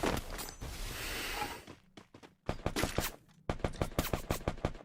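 Gunfire in the video game Free Fire, with a dense burst of shots followed by a series of sharp, rhythmic single shots in quick succession that are loud and close, and no talking.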